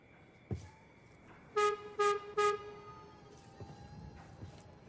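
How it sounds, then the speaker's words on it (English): A horn on a train in a crafting video game, sounding three loud, evenly spaced tonal toots in a row, preceded by a faint earlier honk and followed by quieter background game sounds. "Basic, simple, but effective horn."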